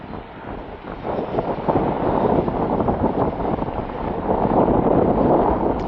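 Gusty storm wind sweeps a Jaffna shoreline where boats are moored, making a loud, continuous roar that swells and surges with each gust, close and unbroken throughout.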